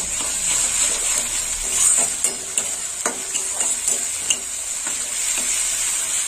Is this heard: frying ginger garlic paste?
yes